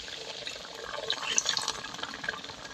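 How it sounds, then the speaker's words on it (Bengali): Water poured into a pan of sugar for a syrup for bundiya, a steady liquid splashing and trickling, close and fairly quiet, with no talk. "আর এখানে 1 কাপ আমি জল দিয়ে দিচ্ছি।"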